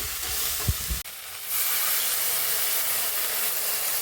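Water hits a hot pan of taro and chilies, setting off a sudden loud hissing burst that settles into a steady, close sizzle with no voices.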